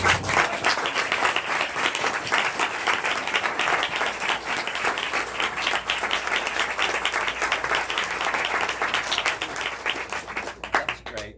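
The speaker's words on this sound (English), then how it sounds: "The applause was wonderful." Sustained audience applause follows a story reading at an author's book event, dense and steady for about ten seconds before tapering into a few scattered final claps.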